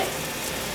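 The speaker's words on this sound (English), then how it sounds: "Fry them up a little bit." Chicken sizzles steadily in a frying pan with mushrooms and seasoning salt, a dense, even crackle filling the short moment close up with no voices.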